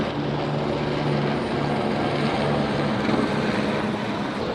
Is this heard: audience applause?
no